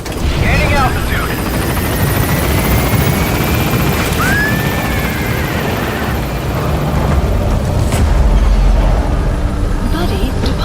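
A helicopter in Metal Gear Solid V climbs with a loud, steady rotor roar and engine whine, a rising whistle sweeping through, heavy and close throughout.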